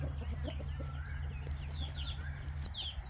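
Several chickens and chicks cluck and chirp softly in a chick-rearing area over a steady low mechanical hum, with high peeping calls scattered throughout.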